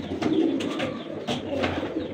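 Soft pigeon cooing with overlapping calls, low and murmuring, steady throughout with a faint brighter rustle at times.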